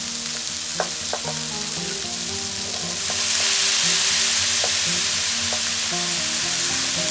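Porcini mushrooms go into a hot pan for a gnocchi and Italian sausage dish, giving a steady frying sizzle with light stirring clicks, louder and fuller after a few seconds, with no talking.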